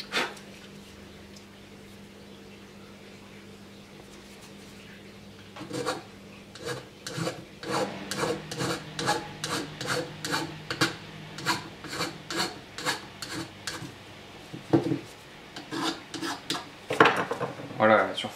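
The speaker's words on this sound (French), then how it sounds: "C'est de l'alu, hein, ça se lime très bien." A metal file rasps against an aluminium Peugeot 103 moped engine case, close repeated strokes in a steady rhythm after a quiet start, with a brief pause midway.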